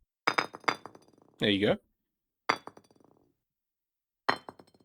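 Brick-hit effects from a Unity Breakout game: a few sharp, bright glassy clinks in quick bursts with slight pitch variation, separated by silence, with a short spoken phrase in between.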